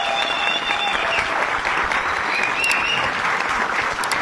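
An audience applauding, a dense, steady wash of many hands clapping throughout, fairly loud and close, with faint crowd murmur beneath.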